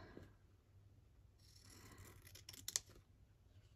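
Scissors snip through overhanging book cover material beside cardboard while a broken book spine is repaired, a few faint, close cuts and rasps clustered in the second half of an otherwise quiet moment.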